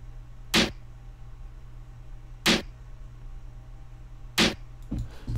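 Three layered snare drum samples for a phonk beat hit one after another at a slow, even interval, each a sharp, bright crack standing alone over a low steady hum.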